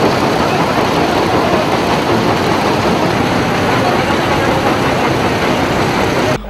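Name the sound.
dredger engine extracting sand from a river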